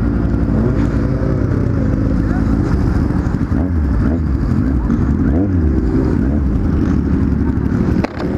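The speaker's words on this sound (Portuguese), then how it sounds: "É muita moto, vamos tentar ficar um pouco mais para trás." Many motorcycles ride by in a loud, continuous roar of engines rising and falling as they pass close by, with speech mixed in underneath.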